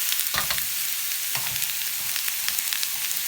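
Bottle gourd pieces frying in a hot pan, stirred with a spoon: a steady sizzle with a few scraping stirs breaking through, close and fairly quiet, no voices.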